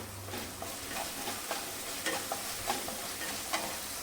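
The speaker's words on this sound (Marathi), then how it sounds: "दोन मिनटं छान आपण हे टोमॅटो परतून घ्यायचं आहे" Chopped tomato with a little salt and turmeric sautéing in a pan, a quiet continuous sizzle broken by light stirring clicks and scrapes, no voices.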